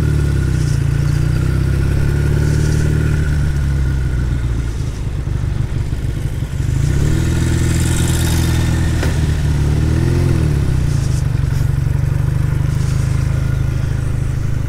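A classic British motorcycle engine runs steadily under a rider on a gentle first outing, a loud continuous mid-range drone with gear changes and brief rises in revs, and no talking.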